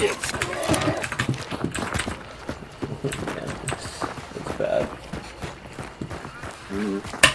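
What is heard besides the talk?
horse hooves in the video game Hunt: Showdown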